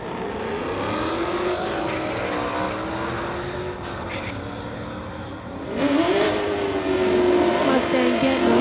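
Drag race between a wide-body Mustang and a 1983 Chevy Camaro, engines roaring steadily from a distance, then a sharp surge of revving near the end, under an announcer's commentary.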